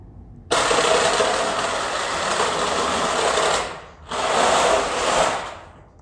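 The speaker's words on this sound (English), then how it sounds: "now the back wheels don't have as much weight pushing them into the ground, so they skid a bit" Motorized VR shoes drive with their back wheels skidding, giving a loud, close, steady mechanical whir for about three seconds, a brief drop, then a second similar run.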